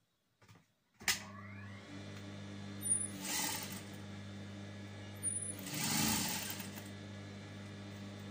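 A sewing machine stitches a lining around a garment neckline, a steady close mechanical hum and drone that starts abruptly and runs on with a couple of rustling swells of fabric being handled, no talk.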